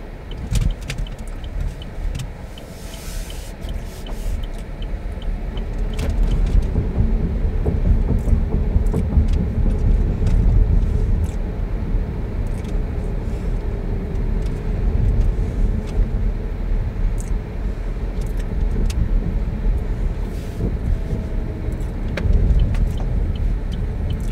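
A Chevy Bolt electric car is driven in one-pedal mode, heard from inside as a steady low road and tire rumble with faint whirring and occasional light knocks, and no talking.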